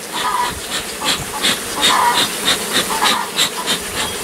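Honey bees buzzing close by while being moved from a possum box during a hive cutout, a busy hum with repeated short bursts rising and falling, no talking.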